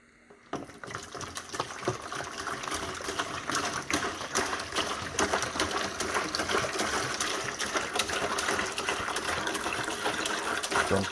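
Warm water poured from a gallon jug into a tub, a continuous close splashing gush that starts abruptly and runs steadily to the end, no talk.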